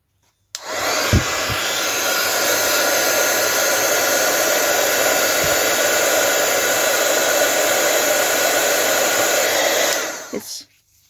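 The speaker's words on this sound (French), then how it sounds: "vous n'avez pas fini avec le pistolet à chaleur" Heat gun blowing hot air while making a snowflake Christmas medallion craft, a loud steady roaring whoosh switched on and off, running about ten seconds with a few faint knocks.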